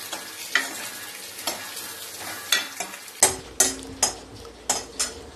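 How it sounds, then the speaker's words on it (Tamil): Pirandai (adamant creeper) being sautéed in sesame oil, heard as a light sizzle under a series of sharp, rhythmic stirring scrapes and clacks against the pan, close and distinct. "நல்ல எண்ணெயில் போட்டு நல்லா வதக்கும்."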